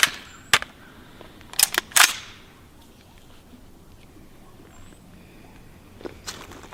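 A handgun fires a few sharp, loud reports: one single shot, then a quick pair, and a later shot after a long quiet gap. Outdoors with faint background noise.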